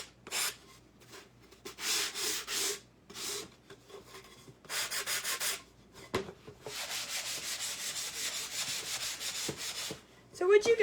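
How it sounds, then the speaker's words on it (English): Electric sander working on a surface in repeated bursts, each a raspy, hissing whir lasting a second or several, separated by quiet pauses, with a longer steady run near the end and no speech. "start getting an electric sander in here."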